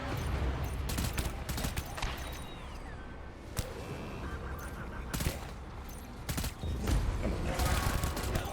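Video game gunfire firing non-lethal rounds at enemies, heard as repeated sharp bursts and single shots against a busy, dense background of game noise.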